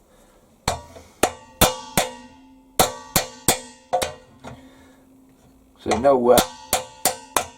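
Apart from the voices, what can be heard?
hammering metal brackets flat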